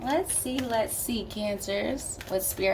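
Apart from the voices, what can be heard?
No distinct noise like a dog, phone or traffic.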